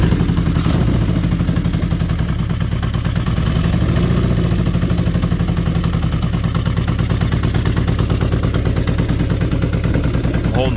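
Vintage Honda CB550 motorcycle engine idling with the throttle held slightly open, a steady, even clattering putter that runs close and continuous throughout.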